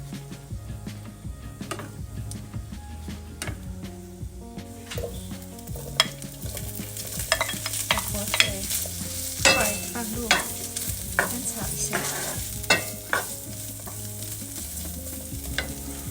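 Ham stir-fried in a pan with butter and garlic, with a steady close sizzle broken by repeated scraping and tapping as the spatula stirs.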